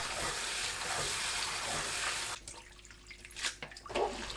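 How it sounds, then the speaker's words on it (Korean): Soaked dried seaweed (miyeok) is rinsed and squeezed by hand in water: a steady rushing wash at first, then quieter sloshing and drips with a few splashes. "불린 미역을 조물조물 씻어줍니다."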